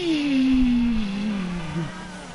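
A vehicle engine in GTA Online winds down with a jet-like whine, its pitch sliding steadily lower over a couple of seconds under a constant rushing background.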